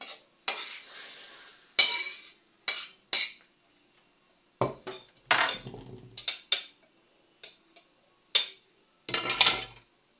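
Cooked takway, sautéed in a home kitchen, is served onto a plate with a series of sharp clinks and scrapes of utensil against cookware, in short separate bursts.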